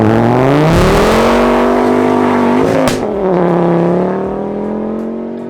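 A 330-horsepower Ford Focus TDCI diesel track car, swapped to ST running gear, driving hard: a loud, close engine note climbing steadily, dipping at a gear change, then pulling on again.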